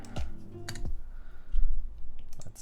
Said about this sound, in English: So let's go back to the typing thing.